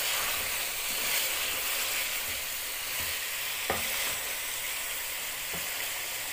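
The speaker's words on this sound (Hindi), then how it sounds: "पहले देखिए आप, माशाल्लाह से बहुत अच्छी तरह फ्राई हो रही है।" Chicken pieces for desi murgh salan frying in a pan, with a steady hissing sizzle throughout and a few soft stirring knocks, close and continuous.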